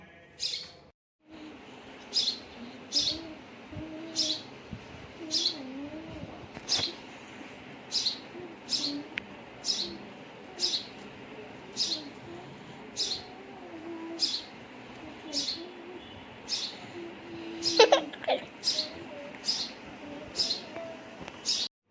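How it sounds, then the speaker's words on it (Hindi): A baby bird chirps repeatedly while being fed, its high, thin cheeps coming in a steady rhythm about once a second, close by and clear over a quiet room background. "तो चिड़िया बात कर रही है तो दिखाता हूँ"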